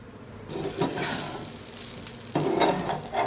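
A mutton curry dosa frying on a hot pan after oil is poured around its edge: a hiss swells in at once and keeps going, close and fairly loud, with a fresh burst of sizzle near the end.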